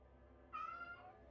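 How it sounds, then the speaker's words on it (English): A cat gives one short, clear meow that rises in the middle, heard faintly over a quiet room hum. "I gotta kick my cat out."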